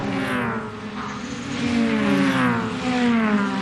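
German Touring Car Masters race cars at Hockenheimring in the opening moments of a race, a loud continuous engine roar with rising and falling pitch as cars pass close by.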